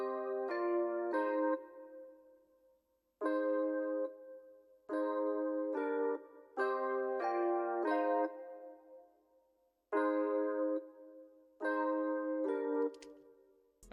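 A synth pad preset from Analog Lab, with reverb, chorus and EQ, plays sustained chord stabs in a repeating rhythmic pattern with short gaps between phrases, soft and smooth.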